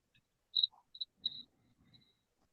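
Crickets give a few sparse, faint chirps in a near-silent stillness, with short high trills and gaps between them and no voices present.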